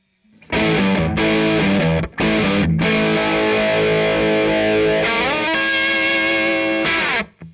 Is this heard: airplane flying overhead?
no